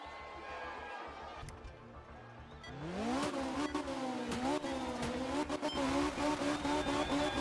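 Volvo rally car in Art of Rally racing on gravel, its engine revving and shifting through rising and falling pitch sweeps after a quieter idle start, with sharp clicks and crunches scattered throughout.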